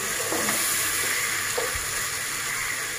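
Prawn fried rice frying in a pan as it is mixed, a dense continuous sizzle close up with faint scraping stirs.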